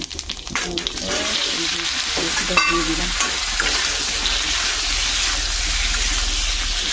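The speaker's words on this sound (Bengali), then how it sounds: "এবার আমি শুকনো লঙ্কা দিয়ে দিচ্ছি শুকনো লঙ্কা পাঁচ ফোড়ন" Dry red chillies and panch phoron sizzle steadily in hot oil, a dense continuous frying hiss with a few brief clinks of stirring near the start.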